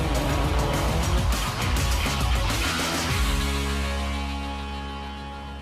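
Race car on narrow tires driving across snow, engine buzzing steadily with tire hiss and crunchy scrabbling, then settling into a steady idling hum as the sound fades slightly, no talking.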